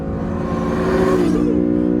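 An Acura NSX launches hard from a standstill, its engine note rising in a steady climbing whine over a deep rumble, heard loud from inside the car.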